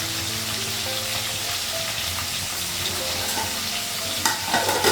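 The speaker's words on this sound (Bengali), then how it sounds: "মাছটা লাগালাম আর কিছু মাছ ভাজা হয়ে গেছে।" Fish fries in a pan in a home kitchen with a steady, close, hissing sizzle throughout and a few brief clinks near the end, with no talking.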